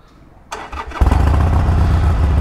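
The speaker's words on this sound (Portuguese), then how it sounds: "Agora vamos ligar a moto, pessoal." A Harley-Davidson Iron 883 motorcycle starts up close by: a short cranking burst, a brief pause, then the engine catches and settles into a loud, deep, throbbing idle.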